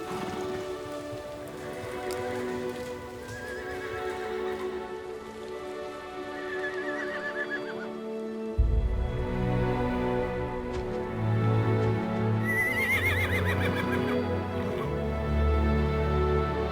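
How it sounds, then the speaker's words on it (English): Wild brumby horses in a snowy mountain alpine meadow, with repeated clear whinnies and neighs over a steady patter, then a nearer burst of calls and movement in the second half. "The brumbies are Australia's famous wild horses."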